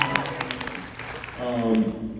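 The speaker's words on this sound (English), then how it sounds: "round of applause for a flock of seagulls" Audience applause at a convention panel in Jacksonville, a burst of scattered clapping from a crowd that swells near the end, with voices talking over it.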